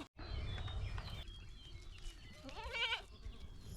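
Goats bleat during sorting of billy kids in a farm pen, a wavering cry rising near the end over a steady background rumble of livestock handling.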